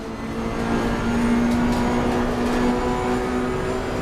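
Race car engines in Assetto Corsa Competizione drone steadily and loudly, a continuous whining hum with a sustained tone that holds level throughout, with no talking.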